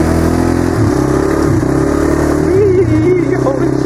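An E-TON 150cc quad's engine runs steadily and loud on a test drive, its pitch rising and falling with throttle changes and no voices over it.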